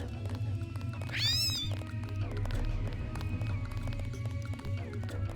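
A kitten meows in the video game Deus Ex, a sharp rising-and-falling mew near the start that stands out over a steady low background hum of game ambience.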